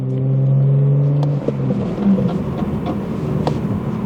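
A BMW 435i with a chassis fault accelerates, its engine rising steadily before easing off. Several faint knocks and clunks then come through under the running engine, heard from inside the car.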